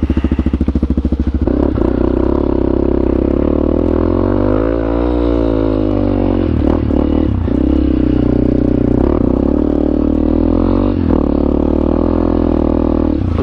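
Yamaha XT250 dual-sport motorcycle ridden through snow, its single-cylinder engine loud and close, steady throughout with a rumble that rises and falls slightly as the throttle varies, plus occasional clatter.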